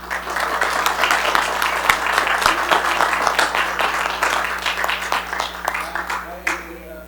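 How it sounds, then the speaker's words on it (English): Audience applause at a commission meeting, brisk uneven clapping from a modest group over a steady low hum, dying away as a voice begins to speak. "all right, we can do a round of applause now"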